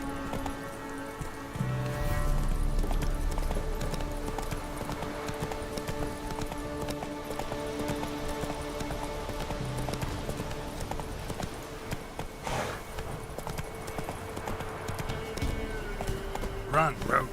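Roach, a horse in The Witcher 3, gallops with rapid rhythmic hoofbeats over game music, while a voice speaks briefly over the hooves.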